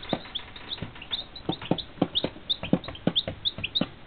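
Chickens cluck in quick, uneven bursts of short, close calls, with soft chirps mixed in and no talking.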